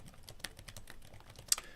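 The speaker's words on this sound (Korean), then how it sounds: "이렇게 하고 엔터를 치면요" Rapid typing on a computer keyboard, a steady patter of close key clicks ending in a sharper, louder press of the enter key; no voices.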